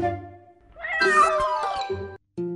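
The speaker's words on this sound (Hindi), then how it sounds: "एक गोदाम में एक बिल्ली रहती थी।" A cat meows loudly and close up in a drawn-out, wavering call lasting over a second, with a short tonal sound before it and another after a brief gap.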